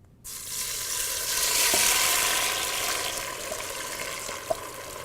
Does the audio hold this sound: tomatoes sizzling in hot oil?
yes